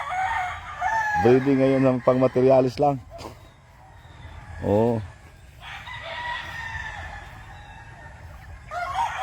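Fighting roosters on a Philippine farm crow loudly and close, one long crow followed by another shorter one, while someone talks over and between them.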